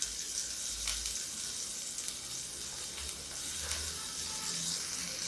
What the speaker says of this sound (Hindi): हमारी दाल और भिंडी फ्राई हो रही है